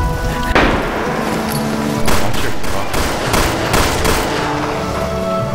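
Rapid bursts of gunfire from the video game Resistance and Liberation, several sharp shots spread across the clip over a dense, steady battle din, fairly loud and close.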